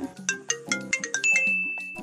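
A melodic electronic phone ringtone plays, a quick run of chiming tones ending in a long held high note, fairly loud and clear with no talking.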